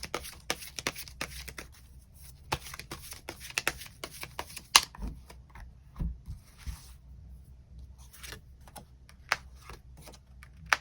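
Tarot cards are shuffled by hand in rapid, dry riffling bursts of crisp clicks and flutters, close and fairly quiet, with no speech.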